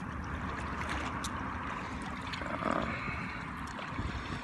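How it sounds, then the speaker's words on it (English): Waves and moving water wash steadily along the ocean shore, a continuous broadband rush with a slight swell near the middle, with no voices. "I'm right on the ocean"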